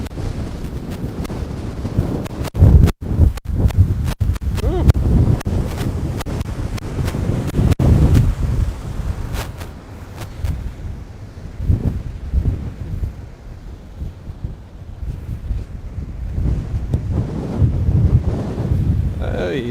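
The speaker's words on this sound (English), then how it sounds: "you might be able to hear it again, the waves" Waves breaking on a lake shore at night during lake effect snow, with strong gusting wind buffeting the microphone; a continuous loud rush and roar with bursts of wind noise throughout and some talk mixed in.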